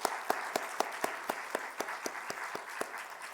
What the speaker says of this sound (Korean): 우리 세 분께 감사의 박수 한번 돌리겠습니다.